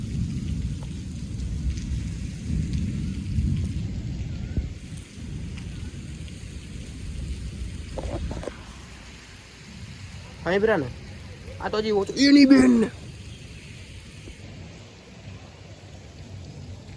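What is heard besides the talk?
thunder and rain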